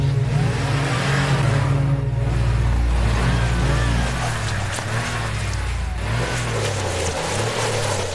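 Car engine revving hard as the vehicle strains with a wheel stuck, loud sustained roar with rising and falling pitch sweeps, briefly easing mid-way before surging again.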